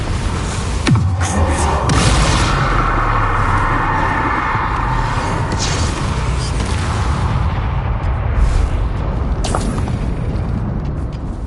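A Confringo spell explosion in the video game Hogwarts Legacy, with a sharp blast opening into a loud, sustained rumbling roar of game effects and smaller bursts.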